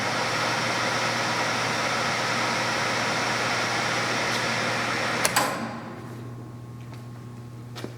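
A Romi T14 14-inch by 40-inch lathe in a machinery shop runs at 50 RPM, a steady loud motor hum that cuts off with a clunk partway through, leaving a quieter background hum.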